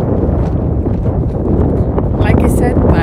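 Strong wind gusts across the Amargosa hiking trail in Henderson, roaring steadily into the microphone as a loud, continuous buffeting rush for the whole stretch.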